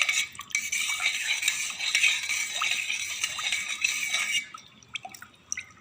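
A spoon stirs and whisks yogurt with spices in a bowl: steady rapid scraping and clinking against the bowl, close and continuous, then slowing into a few sparse taps near the end.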